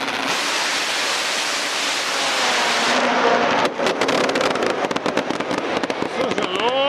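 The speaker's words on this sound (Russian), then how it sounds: "А сейчас выезжает Top Fuel байк" A Top Fuel drag bike engine roars steadily at close range at a European drag racing championship in Germany, then breaks into rapid crackling pops and bangs.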